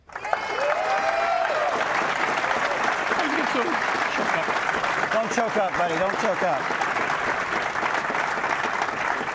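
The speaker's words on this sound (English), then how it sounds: "Big applaud for everybody in here" Dense, sustained applause from an audience at a miniature painting awards ceremony fills the room steadily, with a voice speaking briefly over the clapping.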